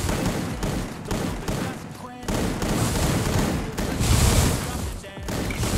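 Gunfire in a shooter video game, rapid shots crackling in quick bursts and bangs throughout, fairly close and dense, with game effects layered over the top.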